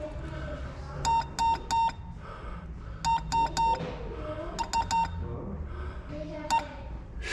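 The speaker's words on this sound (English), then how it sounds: "So you got the Morse code right here." Electronic Morse code beeps sound in quick clustered groups of three to four bright tones, repeated several times, loud and close over low background noise.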